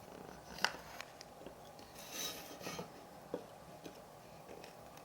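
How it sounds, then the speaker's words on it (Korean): A knife scores a wooden stick as it is turned, giving faint, intermittent scraping and small clicks at close range, quiet and unaccompanied by speech. "칼날이 몸을 향하지 않도록 나무를 돌려가며 칼집을 내주고"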